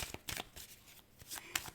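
Playing cards are shuffled for a card draw, with several quick riffling bursts close by and no talk.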